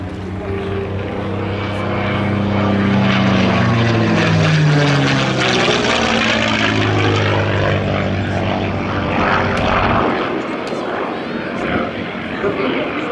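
The propeller warplane Quicksilver flies past at the 2025 Geneseo, NY airshow, its loud piston engine drone rising and then falling in pitch as it sweeps by, before fading into a rougher rumble.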